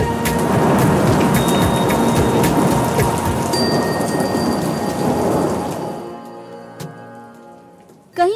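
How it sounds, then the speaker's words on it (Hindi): Heavy rain pours steadily with rumbling thunder during a storm with strong winds in Punjab cities; the downpour is loud and close, then fades near the end, and a sharp thunder crack rings out. "पंजाब के मुख्तलिफ शहरों में तेज हवाओं और गरज चमक के साथ बारिश हुई"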